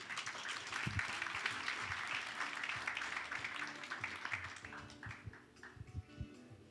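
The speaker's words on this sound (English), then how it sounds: "A round of applause, ladies and gentlemen." Audience applause at an economic report launch in Rwanda, dense clapping filling the room for about five seconds, then thinning into scattered individual claps toward the end.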